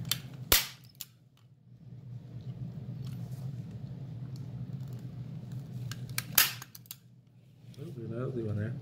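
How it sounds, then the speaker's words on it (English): A staple gun fires into canvas stretched over a wooden stretcher frame: two sharp, loud cracks several seconds apart under a steady low hum, with a person talking briefly at the end. "So staple it here."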